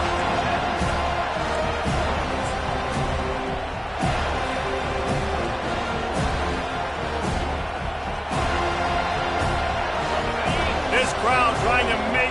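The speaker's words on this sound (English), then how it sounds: "This crowd trying to make life miserable for this offense." Continuous stadium crowd roar from an NCAA College Football 25 video game, a steady dense wall of cheering and noise throughout with a game commentator talking over it.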